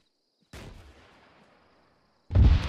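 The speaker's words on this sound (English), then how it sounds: "With that AT shot that Alpha was to shoot" An anti-tank rocket fires in the tactical shooter Arma during a ShackTac squad operation: a sharp launch blast with a long fading roar, then a heavy loud impact near the end, with no voices.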